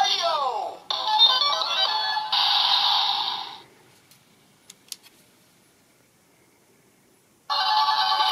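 A DX Hikari Kyutama toy from Kyuranger, activated by its top button, plays loud bright electronic jingles in bursts, falls silent with a few faint clicks, then starts again.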